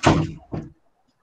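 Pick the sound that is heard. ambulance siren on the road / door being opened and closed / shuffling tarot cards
door being opened and closed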